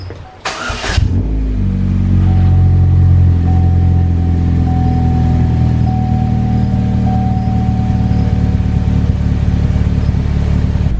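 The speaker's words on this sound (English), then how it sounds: "I'm just going to let the engine warm up like the can says" A Pontiac G5 engine fires up with a brief burst of starter noise, then settles into a loud, steady idle that drones close by as it warms, a faint high whine running beneath the rumble.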